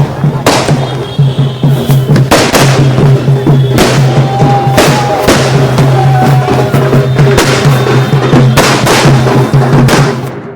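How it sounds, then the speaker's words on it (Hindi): Fireworks bursting over a celebration in Bihar, a loud series of sharp cracks and booming bangs at irregular intervals, some in quick clusters, over a steady hum and crowd noise. "बिहार में आतिशबाजी शुरू हो गई, दिवाली सा जश्न शुरू हो गया, आसमान में पटाखे दिखाई दे रहे हैं।"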